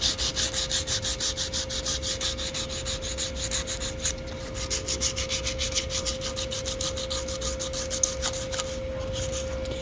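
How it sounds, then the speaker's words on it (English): A steel wheel being hand-sanded with 120 grit wet and dry paper to take off rust, heard as fast, rhythmic back-and-forth scratching strokes, close and steady throughout. "I'm using that 120 grit wet and dry paper, and you're just wanting to smooth everything out"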